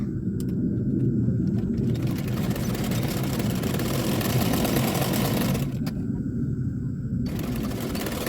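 Electric sewing machine stitching the shoulder seam of a lined double katori blouse, a steady close whirring run that pauses briefly, then starts and stops again near the end.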